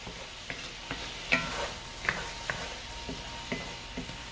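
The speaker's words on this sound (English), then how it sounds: "Yes, give it a stir." Bananas foster stirred in a hot pan, a soft sizzle under a regular series of spoon scrapes and light clinks, fairly close and moderately quiet.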